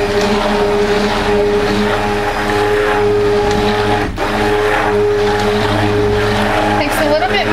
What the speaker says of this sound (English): Takes a little bit more stick blending, something this large.